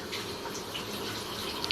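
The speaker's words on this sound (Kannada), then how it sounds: "ಸ್ವಲ್ಪ ನೀರು ಹಾಕೊಂಡಿದ್ದೀನಿ" While cooking in a home kitchen, a little water is poured in as a steady, close gushing stream that runs throughout, with no talk.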